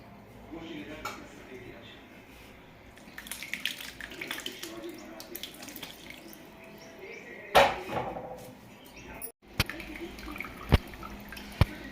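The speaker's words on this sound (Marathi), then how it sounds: "हे बघा आता सगळं मी असं गाळून घेते" Curdled milk, split with lemon juice for homemade paneer, is poured through a strainer, whey dripping and trickling in bursts with a few sharp clatters, while someone talks.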